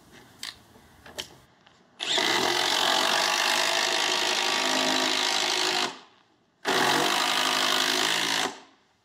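A power saw cuts through a wooden stair stringer in two long, loud, steady bursts, the first about four seconds and the second about two, after a few brief knocks; no one speaks.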